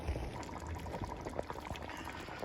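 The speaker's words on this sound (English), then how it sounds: "we put our tomatoes in. And now we're going to stir." Spaghetti sauce of drained hamburger meat and tomatoes is stirred in a pot, giving a faint, wet bubbling and sloshing with scattered soft scrapes; no voices.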